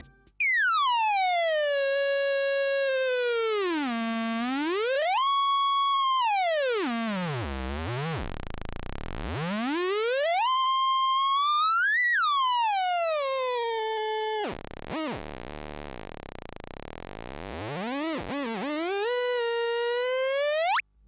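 A loud electronic tone from a mixer sweeps its pitch up and down in slow, wide glides as the EQ is changed, sometimes dropping very low, with a bright, buzzy harmonic texture.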